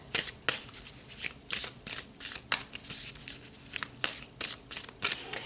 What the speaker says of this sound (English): So let's pull some more cards, Scorpio, and see what else Spirit would like to add.